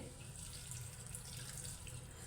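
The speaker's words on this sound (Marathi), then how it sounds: "आता मी ह्याच्यामध्ये पाणी घालते" Water is poured into a pan of cooking vegetable curry, a steady, unbroken close-up stream of running water with no talking.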